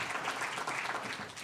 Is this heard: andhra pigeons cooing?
no